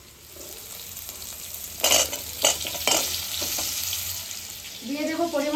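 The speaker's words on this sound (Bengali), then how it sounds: "আমি উচ্ছা ভাজার ওই তেলের মধ্যে দিয়ে দেবো কেটে রাখা আলুগুলোকে।" Cut potato pieces drop into hot oil left from frying bitter gourd. A steady sizzle swells as stirring scrapes and metal clinks come in, and no one speaks.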